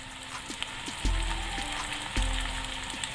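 Tomatoes and onions frying in a pan for an egg curry, a steady close sizzle broken by a few soft scrapes of stirring and two heavier thuds, with no talk.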